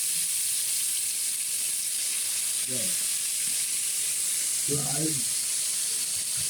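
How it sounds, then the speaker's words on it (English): Overnight-marinated chicken in cafreal spice frying in about a cup of oil, a loud continuous close sizzle and crackle throughout, with a brief voice speaking over it. "this overnight marinated chicken in the kafriel spice goes for frying"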